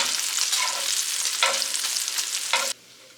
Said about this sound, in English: Bacon is done, so I'm going to take it off.